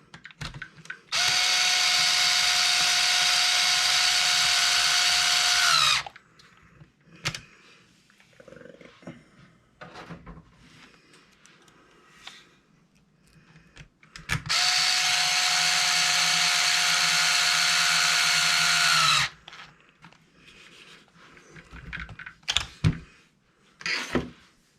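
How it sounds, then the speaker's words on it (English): A power drill whines loudly in two long, steady bursts of about five seconds each, driving screws into a Traxxas 4-Tec RC car body mount, with clicks and handling noises of parts between the bursts. "Go ahead and slam these two screws through."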